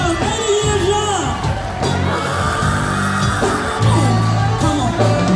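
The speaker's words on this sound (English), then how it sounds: "Give her a big round of applause" A crowd at a fundraiser yells and whoops loudly in bursts, with cheering mixed with shouted voices close by.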